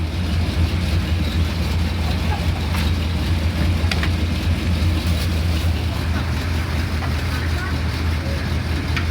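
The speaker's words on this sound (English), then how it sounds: "that's a cold start of a 1970 Mopar" A 1970 Mopar engine idling after a cold start, a steady low rumble held evenly throughout, with a few faint clicks on top.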